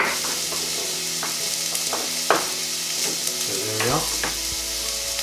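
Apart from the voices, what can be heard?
onions frying and being stirred in a saucepan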